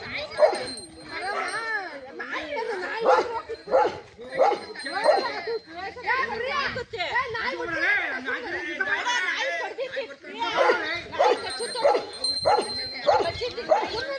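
A Rottweiler barks and yips repeatedly in excited bursts at a cobra, mixed with whimpering, close by over several seconds.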